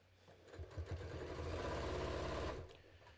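A sewing machine stitching along the neckline of a homemade top, a few short starts followed by a steady, close, fast mechanical whir for about two seconds before it stops.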